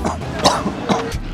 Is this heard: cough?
yes